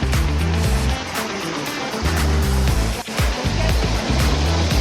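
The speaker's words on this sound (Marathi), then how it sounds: "हे बघा गाईज वरती वॉटरफॉल" Vasundhara waterfall at Bhandardara makes a steady, loud rush of falling water that fills the scene without pause, with a low droning tone layered underneath.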